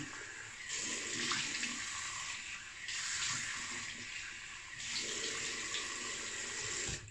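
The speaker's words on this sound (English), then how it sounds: "Cold water rinse." Tap water runs into a sink as a cold rinse after shaving, a steady broadband splash that swells and eases in three bursts over several seconds, close by with no talking.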